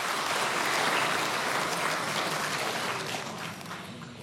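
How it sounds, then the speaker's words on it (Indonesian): A crowd applauds at an evening Perindo political party event, a broad wash of many hands clapping together, loud at first and tapering off toward the end. "Boleh kita berikan tepuk tangan dulu?"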